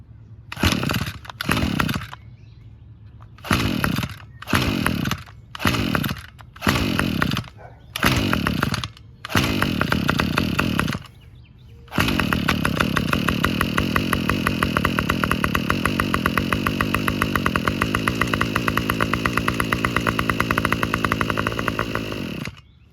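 A Toro 25cc two-stroke string trimmer engine sputters through several short bursts as it is pulled and tries to catch, then settles into a steady, loud, continuous idle running close by with no talk.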